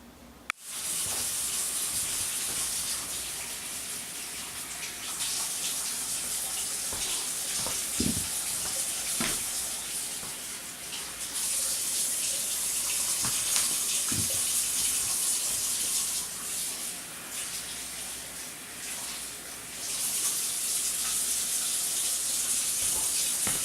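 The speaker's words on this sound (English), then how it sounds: "So after you wash them, you give them a good rinse." Potatoes rinsed under a running kitchen tap: a steady, hissing stream of water splashing for over twenty seconds, with occasional soft knocks and shifts in the flow.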